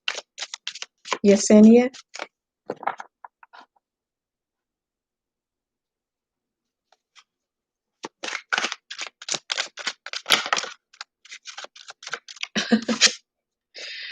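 Tarot cards are shuffled in bursts of quick papery flicks and riffles, with pauses between runs and a voice speaking briefly.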